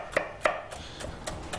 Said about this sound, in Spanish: mira, picar el pimiento.